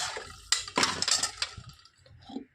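Dishes, pots and pans being washed with water in a home kitchen, with close clinks and clatters of utensils and splashing water in short irregular bursts.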